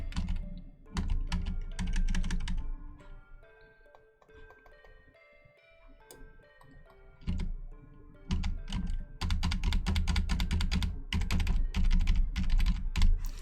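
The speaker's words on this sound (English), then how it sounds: "keyboard ASMR, that's what this stream is" Computer keyboard keys clack in fast, close bursts of typing during a game development session, with a slower, quieter stretch in the middle before rapid typing resumes.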